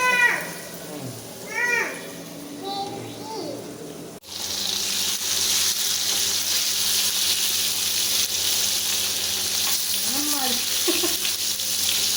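Onions sauté in a pan. A voice talks briefly at the start, then a steady, close, broadband sizzle takes over and carries on to the end.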